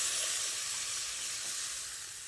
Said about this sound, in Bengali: এবার আমি এর মধ্যে গরম জল দিয়ে দিচ্ছি।